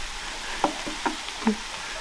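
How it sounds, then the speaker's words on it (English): Stir fry sizzles in a pan with a soft, steady crackle, broken by a few sharper ticks and pops of ingredients hitting the hot surface, close up with no talking. "Little stir fry on the sizzle."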